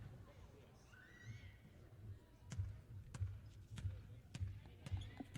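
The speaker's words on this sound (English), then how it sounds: "You hear the ball bouncing at the free throw line." Basketball dribbled at the free throw line during a women's college game, a faint, steady series of about six thuds in even rhythm beneath distant arena crowd noise and commentary.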